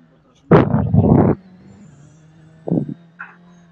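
A rally car engine in a virtual rally racing game revs hard for about a second, then gives a shorter second burst, with a low steady drone between the bursts.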